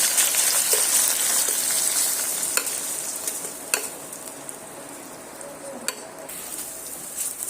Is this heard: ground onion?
yes